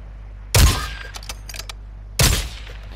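Two sharp, loud gunshot bursts from a Warzone video game match, spaced a little over a second apart, each with a booming low thump and a quick decaying tail, with faint clicks and game noise between them.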